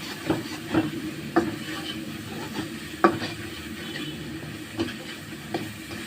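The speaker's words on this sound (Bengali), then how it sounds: "দিয়ে দিব মরিচের গুঁড়া, জিরের গুঁড়া। ভালোভাবে কষাই নিব।" Rohu fish masala with chili and cumin powder fries in a pan for a dopiaza, giving a low, steady sizzle. A spatula scrapes or knocks against the pan every second or so.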